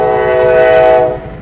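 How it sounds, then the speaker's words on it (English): Passing train with a loud, steady horn blast, held for about a second and then fading, over a low rumble of rail cars. "we got a train"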